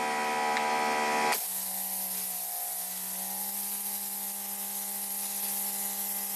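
Greenworks Pro 2700psi electric pressure washer firing through a turbo nozzle: a loud hissing spray with a steady motor hum that shifts abruptly to a different pitch partway through, then holds constant, with no talk.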